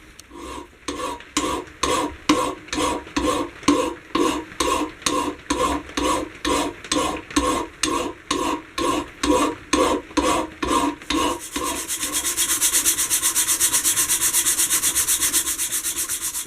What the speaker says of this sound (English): I'll grab a file and I will try and file some of those out, and then maybe sand it to a bit of a flatter finish